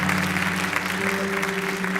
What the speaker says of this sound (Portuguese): Grita mais forte, aplaude mais forte ao Senhor.